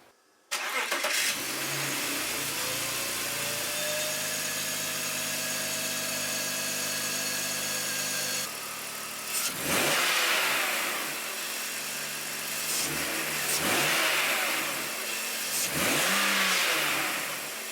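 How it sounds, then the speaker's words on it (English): A BMW 530i's M54 engine cranks and catches, idles steadily for several seconds, then revs up loudly three or four times in quick bursts, close by, after an intake refresh. "now we can start her up and see if it sounds any different"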